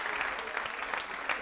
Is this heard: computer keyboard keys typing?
no